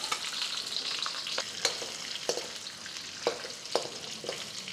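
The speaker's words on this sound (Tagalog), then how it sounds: "Sunod naman natin prituhin yung mga hotdog." Hotdogs frying in a pan, a busy close sizzle and crackle with occasional sharp clicks and scrapes of a utensil stirring, fairly quiet and with no talking.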